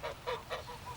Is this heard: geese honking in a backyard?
yes